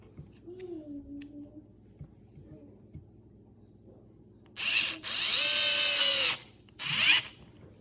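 A Worx power screwdriver drives a screw into a pre-drilled 1x4 red oak board, whirring loudly up close in two bursts with a brief pause between. Before the bursts there is a quiet stretch with soft handling noises and a voice.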